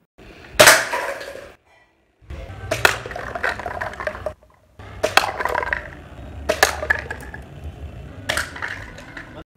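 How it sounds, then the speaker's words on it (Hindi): A pump-action toy shotgun with a laser fires at a target, giving five sharp loud snaps spaced about two seconds apart, each trailed by a brief rattle and scattered clatter against a steady low background. "ये शॉर्ट गन अपने टारगेट को अच्छी तरह से शूट करती है"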